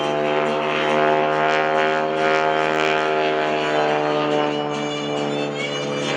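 A propeller airplane at the 2011 Greenwood Lake Airshow carries wingwalker Jane Wicker on its wing, its engine droning loud, close and continuous with a steady, even pitch and no talk.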